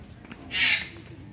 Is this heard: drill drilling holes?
no